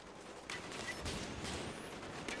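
Gunfire in Call of Duty Black Ops multiplayer: a steady burst of distant shooting and sharp cracks over a dense wash of game noise, fairly faint throughout.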